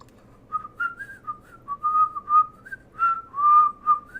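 A person whistles a wandering, tuneful melody alone, with several sustained and sliding notes in short phrases, close and clear over a quiet background.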